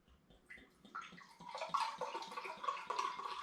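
Strong ale, an all-grain funky Bohemian beer, is poured into a Horsforth Beer Festival 2012 glass, with gurgling and splashing that grows into a steady foaming stream, close and without talk.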